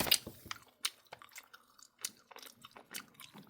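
Close, squishy chewing of a Swedish-style jelly candy substitute, with repeated soft bites and mouth sounds in a steady rhythm, no talking.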